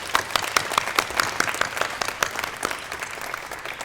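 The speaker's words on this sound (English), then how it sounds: "let's give another round of applause to all of our winners" Audience applause for award winners at the UC Davis Library Lang Prize ceremony: steady, continuous clapping from a seated crowd, moderately loud and even throughout, with no talking.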